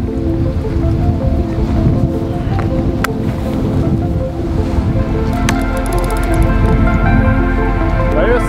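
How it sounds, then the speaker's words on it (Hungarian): Strong wind gusting across the open shore of a quarry lake during carp fishing, a steady loud roar with broadband buffeting of the microphone and a faint lapping of water beneath it. "Az a szél!"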